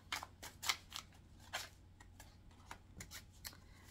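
An oracle card deck is shuffled close by, a run of quick crisp riffling bursts and soft card slaps, faint overall with short pauses and no talk.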